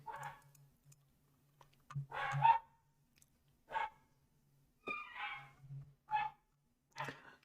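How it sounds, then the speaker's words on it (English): A pet dog makes soft, intermittent bow-wow sounds and short barks indoors. About half a dozen brief bursts are scattered over several seconds with quiet gaps between them, faint and moderately close, with a low steady hum underneath. "She making a little bow wow noises"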